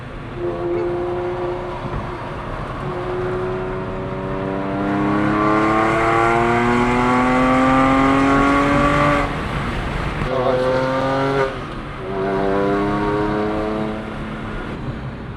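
A loud Slakker 4.1L engine in a Porsche 996 911 revs up through climbing pitch sweeps, drops briefly, then roars again in repeated surges, close and sustained with no talking.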